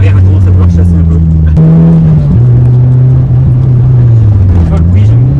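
Engine of a Renault Clio 2 RS heard from inside while driving, a loud steady drone that shifts pitch with gear changes and throttle, with people talking over it.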